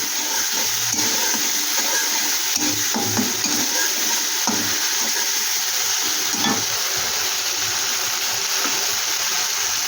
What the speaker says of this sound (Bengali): এটাকে এবার একটু আমি ভালো করে কষিয়ে নেব।